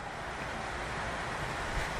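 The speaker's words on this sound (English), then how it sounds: "Hold on, I have to turn off the air conditioner." A steady, broadband whoosh of air from an air conditioner runs unchanged throughout, blowing continuously nearby with no voices.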